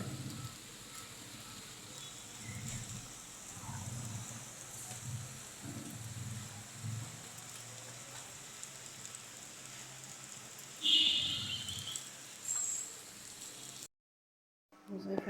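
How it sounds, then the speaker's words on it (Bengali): Rain keeps falling after a night-long downpour, a soft, continuous distant patter with a few low rumbles, faint throughout before cutting out near the end. "বৃষ্টি হয়েছে মানে বৃষ্টি হচ্ছে এখনো"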